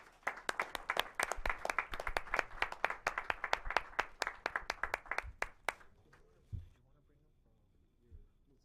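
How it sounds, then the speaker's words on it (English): An audience applauds at a live evening community event, loud crowded clapping for about six seconds that then cuts off abruptly into near quiet with a couple of faint bumps. "Let's have a round of applause for Mr. Gilbert Stokes."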